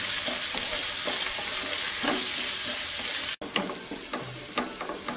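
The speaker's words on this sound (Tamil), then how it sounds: "இது தக்காளி இருக்கிறதே தெரியாமல் நல்லா வதக்கி எடுத்துடணும்." Onion and tomato with ginger garlic paste sautéing in hot oil in a pan for vegetable brinji rice: a steady, close sizzle with stirring scrapes, briefly cut off for an instant partway through before frying resumes.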